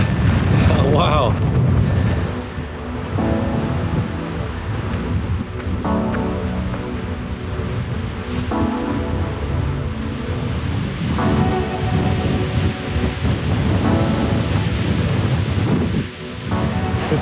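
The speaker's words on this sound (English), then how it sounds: "It's incredibly windy." Strong wind roars and buffets the microphone throughout, a loud, continuous rumbling gust with brief lulls, while people talk over it.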